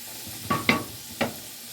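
Sausage browning in a pan, with a low background sizzle broken by three short, clattering stir bursts close by, then settling back to a quiet sizzle.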